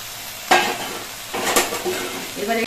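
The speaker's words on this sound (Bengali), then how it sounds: "এবার এর মধ্যে ভেজে রাখা চিংড়ি মাছগুলো দিয়ে দিচ্ছি।" Fried prawns being stirred into taro greens cooking in a pan, with bursts of sizzling and scraping at about half a second, one and a half seconds and near the end, along with clinks of a utensil against the pan.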